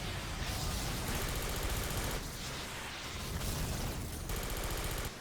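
Grenades burst amid rapid gunfire in the shooter game Star Trek Elite Force 2, a continuous barrage of shots and booming blasts, loud and unbroken throughout.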